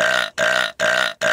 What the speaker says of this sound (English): Why are you burping?